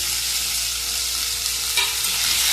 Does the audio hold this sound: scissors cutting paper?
no